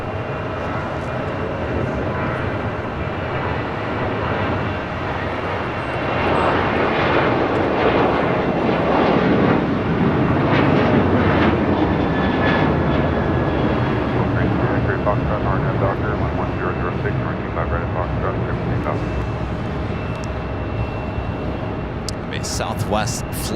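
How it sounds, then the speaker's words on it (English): An Alaska Airlines Boeing 737-800 takes off from the south side of LAX, its engines building to a loud sustained roar that swells in the middle and then slowly recedes, with a voice talking over it. "Next takeoff here on the south side, Alaska Airlines Flight 1332 heading to Cabo, 737-800."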